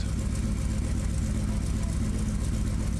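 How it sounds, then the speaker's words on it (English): A 1978 Dodge D150 pickup truck engine with a MagnaFlow aftermarket exhaust gives a steady, deep rumble with a throaty exhaust tone, constant and fairly loud, with wind-like noise mixed in and no clear revving. "that new MagnaFlow exhaust has a nice tone to it"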